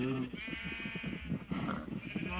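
Sheep in the Minecraft video game bleat repeatedly in a loud, steady run of wavering, nasal cries over a busy in-game background.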